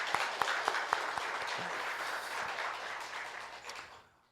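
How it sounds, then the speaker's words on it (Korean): A church congregation applauds during a Sunday service, steady clapping that starts strong with a few sharp claps and gradually fades away. "한번 격려의 박수 한번 하겠습니다"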